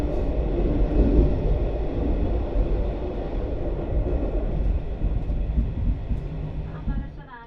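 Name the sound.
Tågab retro train running south from Stockholm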